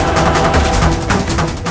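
Gunfire in a Hindi TV drama scene, a dense burst of shots ringing out loud and close, crackling steadily for under two seconds with no talk over it.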